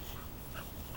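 A puppy whimpers and pants in steady, dense bursts close up, with no talking.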